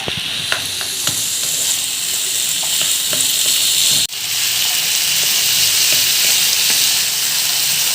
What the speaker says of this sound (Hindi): इसको फ्राई करते रहेंगे। ये देखिए, ताकि हमारा आलू अच्छे से बिल्कुल एकदम फ्राई हो जाए